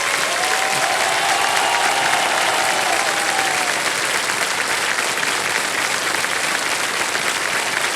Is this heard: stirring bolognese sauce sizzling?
no